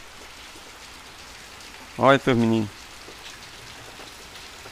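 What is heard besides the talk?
heavy rain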